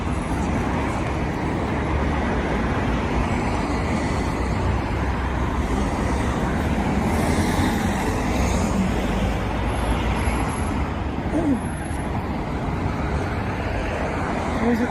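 Cars, buses and trucks pass through a road junction in the cold outdoors, a continuous loud rumble of engines and tyres with a brief air-brake hiss near the end.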